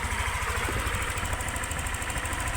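Yamaha NMAX V3 scooter engine idling steadily at close range on its first start after a top overhaul, a continuous even running note with no speech.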